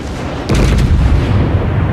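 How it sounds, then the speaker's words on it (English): Warships exchange naval gunfire in World of Warships, with a deep, heavy boom landing partway in and rumbling on under a dense, low battle roar. "Multiple ships are shooting at him."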